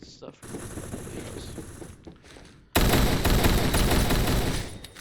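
SCAR-H battle rifle in the online shooter Phantom Forces, rapid automatic fire. A quieter stretch of shots comes first, then a loud sustained burst that runs to the end.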